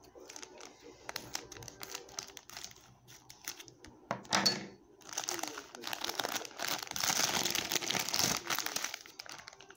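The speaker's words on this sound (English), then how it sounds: "Let's use the scissors." A crinkling plastic candy wrapper is handled and snipped with scissors, with crackly rustling that swells and stays busy toward the end, close by.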